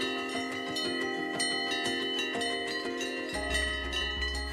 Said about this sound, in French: on entend ce doux son des cloches